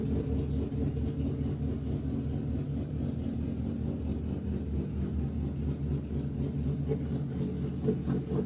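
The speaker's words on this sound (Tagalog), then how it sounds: "before we do, let's fire this bike" Suzuki GSX-S750 motorcycle engine idling steadily, a close, continuous low rumble with a faint ticking, running alone without talk.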